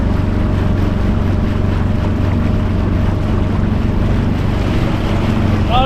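An outboard motor drives a small plastic Bass Raider 10e boat, a steady low droning hum with water rushing along the hull and wind noise, loud and constant throughout.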